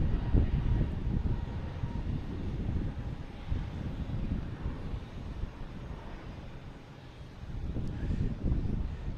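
A Delta Airbus A321neo bound for San Diego takes off at Boston Logan Airport, a steady low jet roar heard from a distance, mixed with gusty wind buffeting the microphone and swelling slightly near the end.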